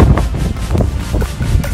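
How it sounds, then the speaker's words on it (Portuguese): Strong outdoor wind buffets the microphone in rainy weather, producing a loud, uneven low rumble and gusty blowing with no clear other sounds. "Tem uma boa ventania."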